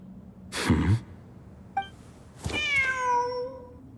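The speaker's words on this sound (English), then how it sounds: "Wait, there it is! The cat!" A cat meows in the video game Genshin Impact, with two distinct drawn-out meows, the second rising and sliding down in pitch, clear and close over quiet background.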